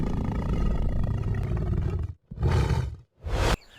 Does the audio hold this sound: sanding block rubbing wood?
no